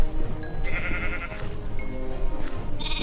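Minecraft sheep bleating in short repeated wavering cries, several calls in quick succession over quiet background game sounds.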